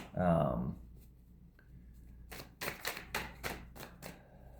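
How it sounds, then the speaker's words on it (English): Tarot cards are shuffled by hand in a series of quick, crisp riffling bursts after a brief spoken phrase, close and fairly quiet. "The cards don't want to even come out today. I'm struggling with the shuffling."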